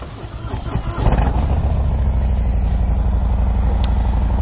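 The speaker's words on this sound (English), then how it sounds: "let's just do a sound test on the 114. This is a stock exhaust pipe" A 2018 Harley-Davidson Fat Boy 114 with stock exhaust cranks and catches, then settles into a steady, loud, throbbing idle.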